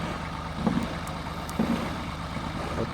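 A small tractor clearing snow runs with a steady, low diesel drone, a few faint knocks and clanks rising briefly above the constant rumble at moderate distance.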